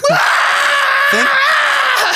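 A person vocally imitates a Wilhelm scream: a loud, drawn-out, wavering wail that breaks and repeats briefly, heard alone and close.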